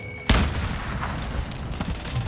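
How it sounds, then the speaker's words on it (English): Grenade explosion in the shooter game Call of Duty Warzone: a single sudden loud boom near the start, trailing into a rumbling tail and noisy game ambience. "Grenade out."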